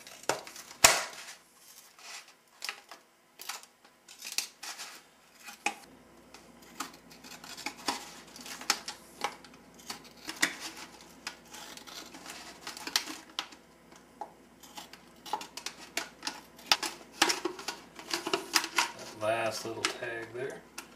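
Scissors snipping plastic to shape a homemade yellow jacket trap, a run of close, sharp irregular cuts and crunches without speech.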